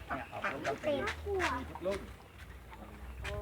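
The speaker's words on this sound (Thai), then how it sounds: "อันนี้ไก่หรือเป็ด นี่เป็ด" Ducks quacking close by at a rural farm learning centre, a run of several raspy nasal calls in quick succession, with people talking over them.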